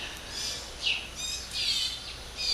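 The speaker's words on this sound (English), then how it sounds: "Those are birds." Small birds chirp and twitter in repeated short bursts, fairly faint, with no talking.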